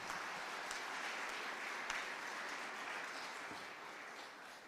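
Church congregation claps in thanks during a Hindi sermon, a soft, even wash of many hands heard from a distance, faint and steady for several seconds.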